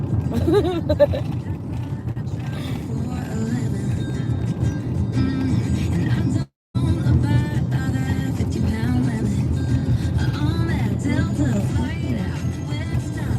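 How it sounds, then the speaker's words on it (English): A car approaches along a dark road at night, its engine and tire noise a steady rumble under nearby people talking, with a brief cut in the middle. "we got a car coming"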